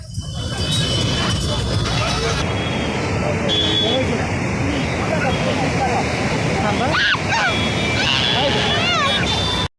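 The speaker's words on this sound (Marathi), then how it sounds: "कसा आहे पूर नाशिकचा पूर" Floodwater rushing through Nashik, a loud, constant roaring wash that fills the whole clip, with voices and other noises heard faintly through it.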